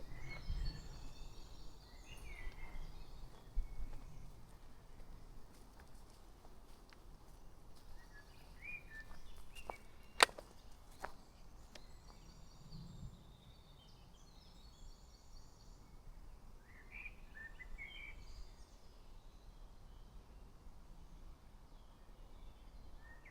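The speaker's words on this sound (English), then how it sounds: "Listen to the birds." Birds singing outdoors on a family vacation in Germany, scattered faint chirps and short calls coming and going at a distance over quiet background ambience, with one sharp click partway through.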